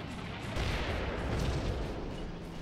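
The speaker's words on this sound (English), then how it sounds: "That first mortar barely misses." Dense, rumbling blasts and crackling roar as 120mm mortar shells fall around a Bradley fighting vehicle in the Combat Mission tactical game, a continuous heavy barrage filling the sound without a break.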